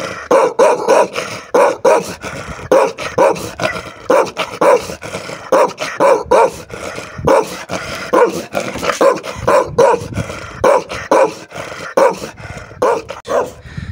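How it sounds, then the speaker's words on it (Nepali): A Bhote dog barks repeatedly in a steady, loud series of sharp barks on a windy hillside trail in Nepal, with no speech over it. "यो भोटे कुकुर"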